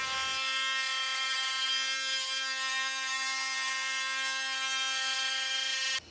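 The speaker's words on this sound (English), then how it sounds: "here I'm just clamping it into the vise and cutting a groove into it" A power tool cuts a groove into a wooden dowel clamped in a vise, giving a steady, loud, high-pitched whine that holds evenly for about six seconds and then cuts off abruptly.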